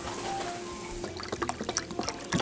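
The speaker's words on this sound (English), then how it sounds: "We need 3 cups of chicken broth, so I'm going to go ahead and be measuring that out." Chicken broth pours into a measuring cup in a home kitchen, a liquid splash and trickle that starts after a second and continues with uneven gurgles and drips, fairly close and moderately loud.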